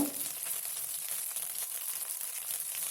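Ginger garlic paste sizzling in hot oil for gobi kurma while being stirred, a steady hissing fry with soft rhythmic scraping underneath, close and fairly quiet, with no talk.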